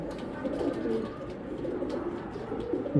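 Pigeons kept by a fancier for long-distance racing and flying coo in soft, low repeated phrases, close by, with no talk over them.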